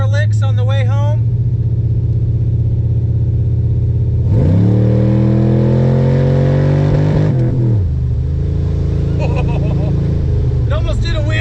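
A Chevrolet Caprice station wagon running nitrous idles with a deep rumble, then revs hard in a loud rising acceleration for several seconds before dropping back, close to the microphone.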